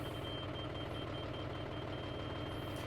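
A steady, unbroken electronic beep from a land leveller's height sensor holds over the loud rumble of an idling diesel engine throughout.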